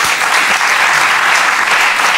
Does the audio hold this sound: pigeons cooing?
no